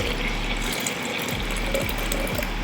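Fresh coconut water poured while making a coconut shake, a steady close liquid splashing and trickling with a few low thuds, no talking.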